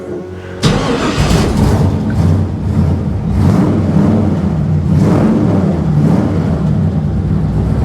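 A 1957 Chevy engine cranks and catches at about 0.6 s on an icy day, then runs at a loud, steady, rumbling idle with a few rhythmic surges through the rest.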